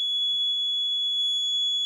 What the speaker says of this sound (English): the buzzer will be on and the LED will change to yellow LED